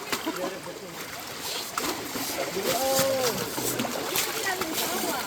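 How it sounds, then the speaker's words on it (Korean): Water splashing and sloshing heavily and steadily as an elephant splashes, with voices talking over the churning noise. "오빠 이거 입에 물 튀기지 마."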